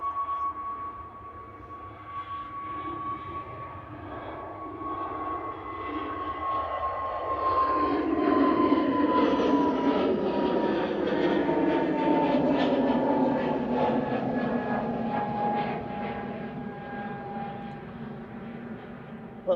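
An Airbus A320neo airliner departs Manchester Airport, its engine roar building from about seven seconds into a loud, broad sustained rumble with a steady whine on top, heard from a distance outdoors.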